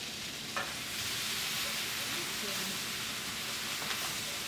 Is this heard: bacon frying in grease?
yes